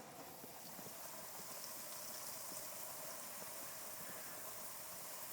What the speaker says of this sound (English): This is the water faucet outside. And it does this.